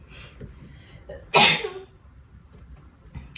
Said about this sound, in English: I'm sorry, I had to sneeze.